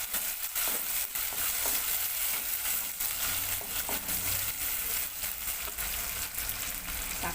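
Tomatoes sautéing in a pan for a dried anchovy curry give a steady, close sizzle with scattered stirring clicks and scrapes running the whole time, no voices.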